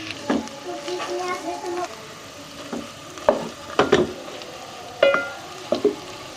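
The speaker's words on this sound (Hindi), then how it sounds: "अब हम इसमें आलू डाल देंगे। अब हम इसको 1 से 2 मिनट पका लेंगे।" Potatoes sizzle and fry with cumin in a pan for samosa stuffing, a soft frying hiss punctuated by several scraping stirs, with children's voices and speech audible in the background.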